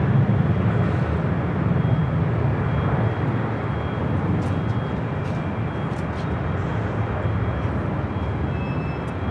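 Atlas Air cargo plane on flight 9541 passing by, a loud, broad roaring rush that stays steady, then eases slightly partway through, with no voices.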